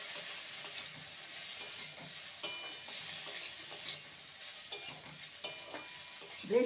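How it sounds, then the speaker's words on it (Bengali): Okra stir-fried with chopped green chillies and a little chilli powder gives a steady soft sizzle, broken by several sharp scrapes and clinks of a spatula stirring in the pan. "ভেন্ডিটাকে ভালো মতন ভেজে নিতে হবে"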